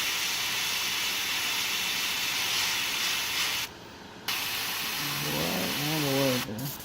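Spray paint hissing steadily from a can onto a surface, close and continuous, briefly cut off midway before resuming, with a voice speaking over the last moments.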